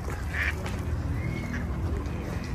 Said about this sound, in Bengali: দেখো দেখো কি সুন্দর হাঁস হাঁস দেখা যাচ্ছে